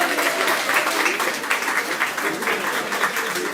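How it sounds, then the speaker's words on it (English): Audience applause welcoming a guest at a Three Kings Day Parade breakfast ceremony, lively clapping with distinct individual claps popping out of a steady crowd wash, fairly close and full. "let's give her a big round of applause"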